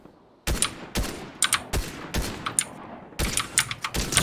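Shotgun blasts in a Fortnite No Build duos match, a series of sharp, loud shots fired in irregular succession about half a second apart, with smaller hit clicks between them and no speech.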